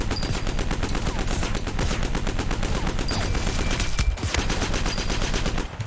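A light machine gun in the shooter game Project Genesis fires a long, continuous rapid burst, loud and close, with dense evenly spaced shots that run almost unbroken for several seconds.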